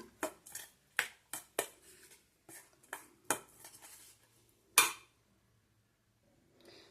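A utensil clinks and scrapes against a pan while cauliflower paratha filling is mixed, giving about a dozen sharp, separate knocks at an uneven pace, close up, then trailing into near silence.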